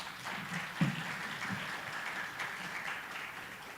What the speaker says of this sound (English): we also have to give him a very big round of applause.